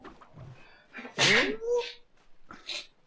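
A single sharp sneeze bursts out near, loud against quiet background voices of a StarCraft match commentary, followed by a smaller breathy sound.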